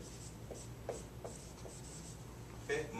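Marker or chalk scratching out an algebra equation on a classroom board, a series of short strokes and taps at close range, steady and moderately quiet with no one speaking.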